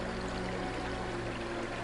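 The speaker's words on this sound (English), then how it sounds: "the movement of the water" Flowing river water makes a continuous, steady broadband rush throughout, close and alone with no voices.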